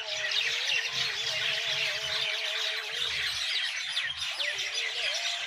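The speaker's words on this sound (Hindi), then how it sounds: "ज़्यादा परिंदे जो हैं इस वक्त चहचहा रहे हैं" Dense chorus of many birds chirping and twittering at dusk beside a kitchen garden, a continuous bright chatter with a low rumble breaking in and out beneath it.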